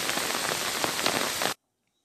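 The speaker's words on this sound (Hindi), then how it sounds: "यहाँ पर जब वर्षा गिरती है तो कैसा लगता है?" Rain falls on a school ground in a dense, loud, even hiss of countless drops, close and steady, then cuts off abruptly into silence.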